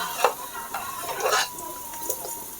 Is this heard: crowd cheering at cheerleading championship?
no